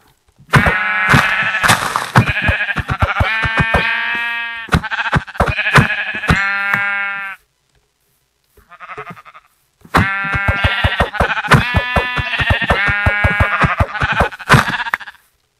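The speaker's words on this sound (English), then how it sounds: "looks like we can kill some more sheep" Video game sheep bleating in a rapid, dense string of loud nasal calls, pausing briefly near the middle with a faint burst before resuming, no talking.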